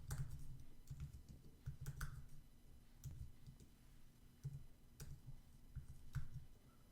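Zip codes are typed on a computer keyboard in short bursts of quiet, close clicking keystrokes, with brief pauses between groups and no voice.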